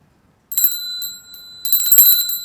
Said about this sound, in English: No, that's a bell.